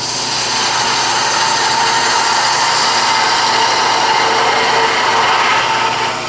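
Steady, loud whir of a wood lathe spinning with a gouge cutting the inside of a wooden scoop, a continuous bright rasping hiss of shaving wood held evenly for several seconds with no talking.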